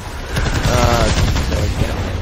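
Dense video-game gunfire aimed at a boss's weak spots, a steady rattling fusillade of rapid shots over a low rumble, close and loud for the whole stretch with a faint voice underneath.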